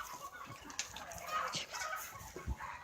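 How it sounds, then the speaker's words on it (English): Chickens cluck softly nearby outdoors, with scattered low clucks and a few short calls over a faint, steady background. "I'm gonna show you the chicken."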